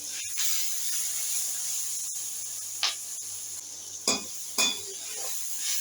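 Tomatoes, green chillies and onion fry in a pan with a steady soft sizzle, punctuated by a few sharp metallic clicks and scrapes of a utensil.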